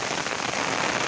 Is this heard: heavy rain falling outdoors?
yes